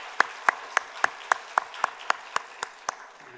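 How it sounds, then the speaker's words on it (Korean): A church congregation gives slow, evenly spaced claps one after another, about a dozen in a steady rhythm, fairly loud with a roomy echo. "박수로 축복하겠습니다"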